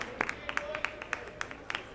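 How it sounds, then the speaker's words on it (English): Scattered, sparse clapping from parents at a youth ice hockey game in a rink, sounding thin and somewhat distant, with a voice talking over it. "Applaud from all the parents on both sides."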